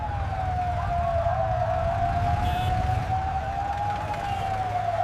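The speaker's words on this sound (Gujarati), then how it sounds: "પણ એ જ ક્ષણે દૂરથી સાયરનનો અવાજ આવ્યો." A single siren wails steadily and loudly throughout with a slow rising and falling tone over a low rumble, with no talk; it sounds like an emergency vehicle approaching from a distance.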